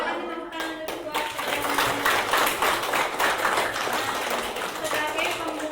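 A class of fourth-grade schoolchildren claps together in a classroom, a lively, fairly close burst of hand clapping that runs steadily for several seconds with voices mixed in.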